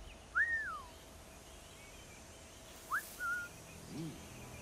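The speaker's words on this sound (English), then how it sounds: "Whistle." A short whistle from the player character in Assassin's Creed Black Flag, used to lure enemies in a jungle, sounding as a few quick rising and falling whistled notes over quiet ambient background.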